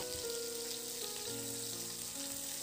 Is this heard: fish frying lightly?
yes